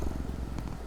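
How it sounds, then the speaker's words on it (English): A cat purring close up, a steady low rhythmic rumble with soft pulsing breaths throughout the short stretch. "Oh, it's purring."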